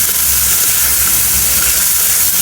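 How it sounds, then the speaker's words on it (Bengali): Coriander powder with turmeric frying in a pan for a dried-fish dish with taro and Malabar spinach greens, giving a steady, loud sizzle and hiss that holds unbroken throughout with no voices. "ধনিয়ার গুঁড়া এখন একটু কষাবো"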